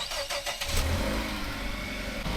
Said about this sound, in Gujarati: હવે ગાડી ચાલુ થઈ જશે.